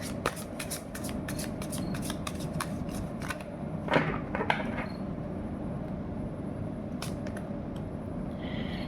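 A deck of tarot cards is riffled and shuffled in repeated quick bursts of crisp flicks and slaps, close and clear, in a quiet room with no talking.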